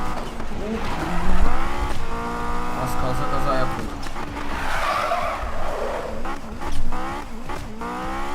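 Revving Honda S2000 engine in a Need for Speed racing game, with rising and falling gear whines and tires screeching in skids, under excited talk.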